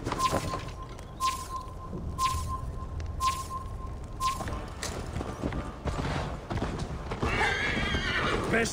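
Hooves clip-clop in a steady rhythm as a horse runs, a loud whinny breaks in near the end, with faint talk beneath, in the video game Assassin's Creed Valhalla.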